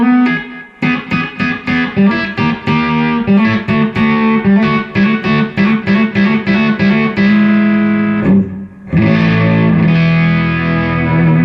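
Electric guitar played through an overdriven MegaTone GH35TI tube amp, choppy rhythmic chords with gritty distortion, loud and close, ending on a sustained ringing chord after a brief break.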